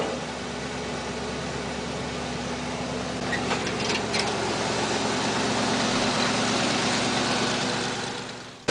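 A junkyard 1973 Jeep CJ5 V8 idles with a steady low rumble and a broad, constant hiss. It runs continuously at an even level, with no voices over it.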